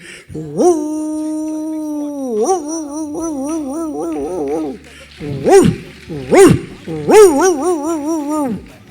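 A dog gives a run of drawn-out, pitched whimpering howls followed by a few sharp yelps, close and fairly loud, with no other sound competing.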